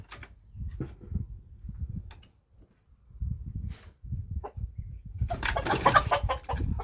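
Farmyard chickens clucking on and off at close range, with quiet gaps between calls and a louder burst of agitated clucking and flapping near the end.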